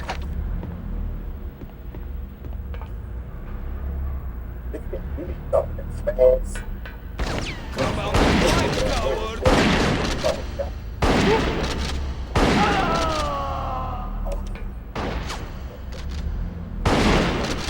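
Shotgun blasts in the Bad Boys Miami Takedown video game, several loud booming shots spaced irregularly over a low background rumble, with some gunfire-like cracks and a voice talking in places.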